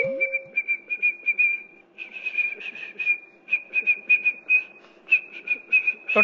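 In a Tamil guessing game, a person whistles a film song tune: clear, high notes in short rhythmic phrases with brief breaths between, running continuously over faint background room noise.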